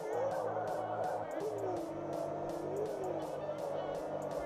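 A race car engine in a Unity racing video game hums steadily and faintly with a pulsing, looping drone and rhythmic repeating bursts, while a voice talks over it throughout.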